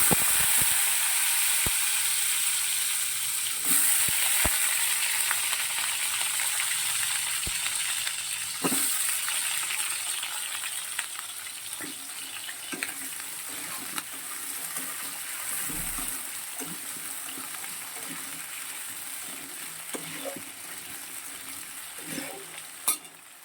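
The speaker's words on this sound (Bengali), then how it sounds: "আলুটা তো খুব ভালো করে ভাজা" Cut potatoes fry in oil tempered with whole cardamom, dried red chillies, cinnamon and cloves, a strong continuous sizzle broken by occasional knocks and scrapes of stirring, close up and without voices.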